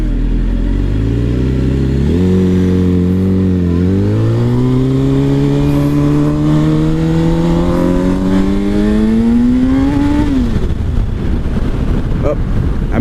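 A GSXR motorcycle engine swapped into a project vehicle on its first ride pulls hard through rising revs. The engine note climbs steadily, shifts once, then climbs again until it drops off near the end, with wind rushing over the microphone.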